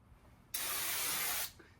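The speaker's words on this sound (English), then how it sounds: "hard to use a spray can that sprays this much area per swipe and not giggle while you're doing it" Spray paint can releasing burnt red paint in one steady hissing burst of about a second, loud and close, with a sharp start and fade-out during project work on a 1961 Mercury Comet.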